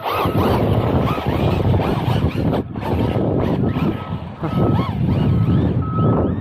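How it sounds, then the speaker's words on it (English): Wind buffets the microphone steadily with rumbling gusts, while the small motor of a Team Corally Asuga RC buggy whines faintly through it; no one speaks. "It's pretty windy out here today."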